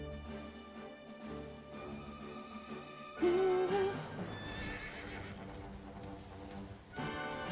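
A horse in Dragon Quest XI S gives one loud, clear whinny over steady game music, with faint hoof clip-clops around it and no talking.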